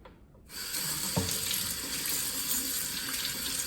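A kitchen tap starts running about half a second in, and water pours steadily as a flower bulb's stem is rinsed under it, close and continuous with a brief splash near the start.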